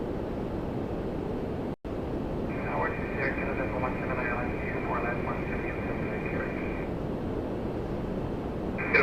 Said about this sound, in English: Coming in from Saskatoon on an Embraer E195 E2